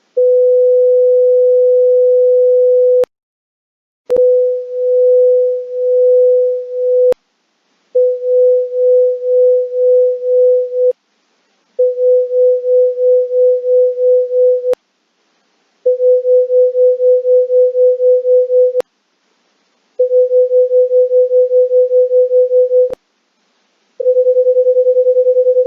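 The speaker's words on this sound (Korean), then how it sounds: "맥노리 현상이라고 하는 것은 지금 실제로 들어보셨던 것처럼 두 개의 순음이 갖는 주파수가 서로 비슷할 때" Two pure tones of nearly the same frequency played together, producing a steady hum that swells and fades in regular beats, in several segments separated by short silences and with the beat rate changing between segments.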